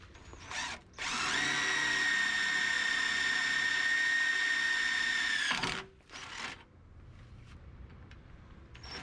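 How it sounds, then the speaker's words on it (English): A power drill pre-drills a hole in thick metal ahead of self-tapping screws, running steadily at high speed for about five seconds between short bursts, loud and close, with no talk. "So we're going to drill a hole, pre-drill it, and then set it."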